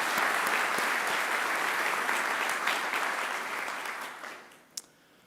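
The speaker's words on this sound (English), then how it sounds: "let's have another round of applause to thank Antonia" An audience at a university graduation ceremony gives a sustained round of applause that holds steady, then thins out and fades, ending with a single last clap.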